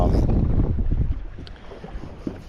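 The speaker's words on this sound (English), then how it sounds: "This wind's not really letting off at all." Strong wind buffets the microphone on open water in Moreton Bay, a loud low rumble that is heaviest at first and then eases, with faint water and boat noise beneath.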